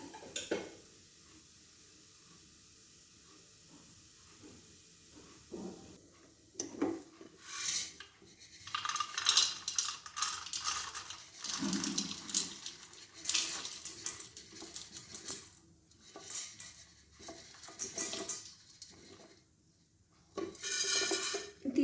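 Popped sorghum (jowar) puffs are scraped and lifted out of a hot pan with a utensil, giving intermittent scraping, rubbing and light metallic clatter over quiet stretches, close and fairly soft.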